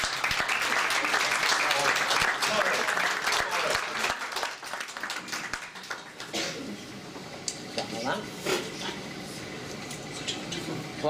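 An audience applauds at a single launch event, clapping densely and loudly at first, then thinning out into scattered claps while a voice talks over the fading applause.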